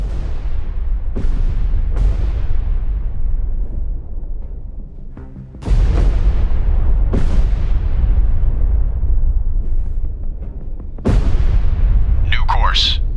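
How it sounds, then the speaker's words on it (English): Depth charges from a destroyer in the naval game Destroyer: The U-Boat Hunter go off as a series of heavy booms, about six loud blasts at uneven intervals, each with a rumbling tail, and a voice speaks between them. "Ready depth charges. Shallow pattern."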